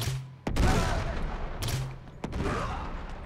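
Gunfire in the video game Uncharted: Drake's Deception cracks out in three sharp shots spaced about a second apart, each followed by a ringing, rumbling tail.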